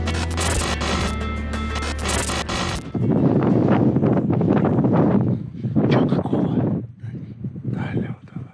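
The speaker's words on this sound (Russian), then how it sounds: "К тому же, были очень сильные порывы ветра." Strong, gusty mountain wind in the Caucasus at an outdoor shooting spot, turning into loud, roaring buffeting against the microphone after about three seconds of steadier sound, with voices heard at times.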